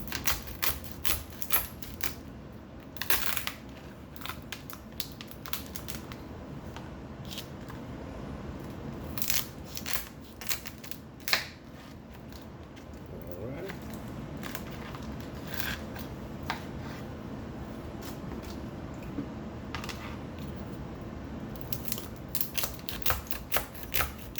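Kitchen shears cutting through raw lobster tail shells, a long run of close crunching snips and cracks in irregular bursts, with scattered louder snaps over a faint background and no talk.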